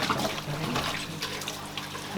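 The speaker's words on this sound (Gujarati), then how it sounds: "બોટલ સાફ કરી ધોવાય છે" Water runs steadily from a tap with splashing and sloshing, as if something is being rinsed, fairly quiet and close.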